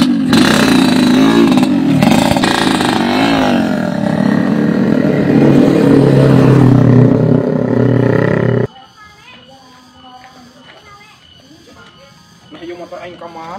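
A motorcycle engine runs in a Sundanese comedy skit, roaring and revving loudly with rising and falling pitch for several seconds before cutting to a low idle beneath people talking.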